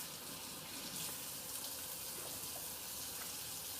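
Warm water runs from a kitchen tap for hand washing before cooking, a steady, soft rushing stream that stays even throughout with no talking.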